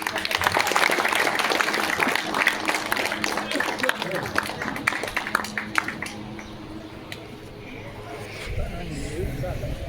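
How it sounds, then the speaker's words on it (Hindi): Applause from the audience at a Holi get-together community event, with a burst of clapping mixed with crowd noise and announcer talk over it, fading toward the end. "ताली कम से कम"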